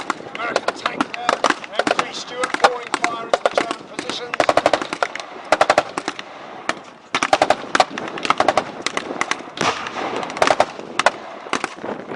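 Machine gun bursts crackle in rapid, uneven volleys at a historical battle reenactment at a history festival, loud and fairly close, with short pauses between strings of shots and a voice narrating over them.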